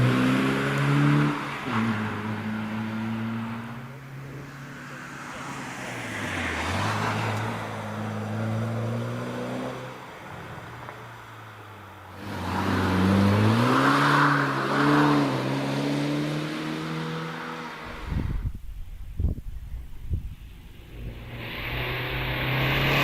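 Porsche 944 rally car accelerating up a hillclimb at night, its engine rising and falling through several gear changes over roughly twenty seconds, loud and fairly close, with no one talking.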